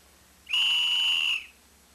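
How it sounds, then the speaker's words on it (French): A referee's whistle at a Montreal Canadiens ice hockey game gives one loud, steady, piercing blast of about a second, standing alone against a quiet background. "au coup de sifflet de l'arbitre"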